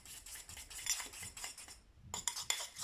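Icing sugar mixture is whisked in a bowl, quick rapid clicking and scraping strokes, close and rhythmic, pausing briefly before resuming.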